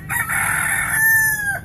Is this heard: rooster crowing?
yes